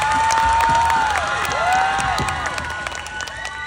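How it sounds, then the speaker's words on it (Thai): An audience bursts into applause and cheering during a live talk-show finale event, loud and close, with shrill whoops and shouts riding over continuous clapping that gradually eases off. "ก็ขอเสียงปรบมือให้เพิร์ทหน่อยครับ"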